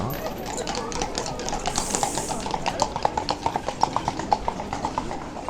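Horses pull carriages across a Salzburg square in winter, their hooves clip-clopping in a steady, quickening rhythm that grows more distinct toward the end. Voices murmur in the background.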